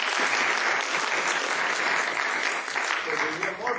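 Audience applause in a lecture hall for the Cadarache team, a dense continuous wash of clapping that holds steady and then begins to thin toward the end.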